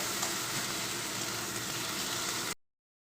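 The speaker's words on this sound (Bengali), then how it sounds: "এবার দিয়ে দেবো আমি বেটে রাখা রসুন আর দেবো আদা একটু সময় কষাতে হবে" Ground garlic and ginger paste fries in hot oil in a pan with a steady, loud hiss and crackle that runs unbroken for about two and a half seconds before cutting off abruptly.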